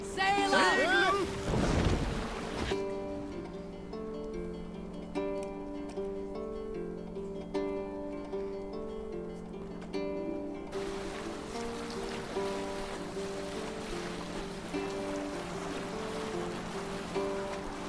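A longship sails on the sea in Assassin's Creed Valhalla, with soft wind and wave wash under sustained game music, after an opening burst of splashing and whooshing.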